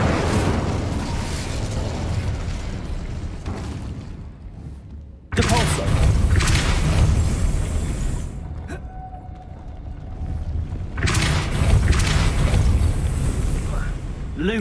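An Incendio fire spell is cast in the video game Hogwarts Legacy, a loud roaring, rumbling burst of flame and booms that swells, cuts out and returns in waves, mixed with speech.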